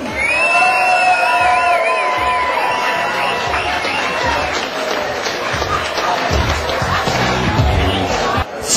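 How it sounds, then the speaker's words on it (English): Crowd cheering, whooping and applauding at an evening race-week awards gathering, a loud, dense roar that carries on steadily from start to finish with voices shouting through it. "I want a huge round of applause for Graham Fordham!"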